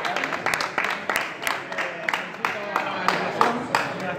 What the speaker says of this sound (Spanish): Un fuerte aplauso por la honestidad